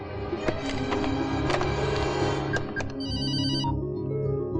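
A telephone ringing in a repeating electronic ring pattern over a dense, steady background of film music and ambience, with a clear high ringtone burst near the end.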